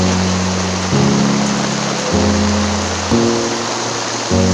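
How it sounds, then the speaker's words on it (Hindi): Heavy rain pours steadily as a dense, close hiss in Mussoorie, with a low droning engine hum underneath that shifts pitch every second or so. "कितनी बारिश हो रही है।"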